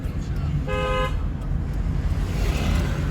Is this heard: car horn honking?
yes